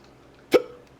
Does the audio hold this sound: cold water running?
no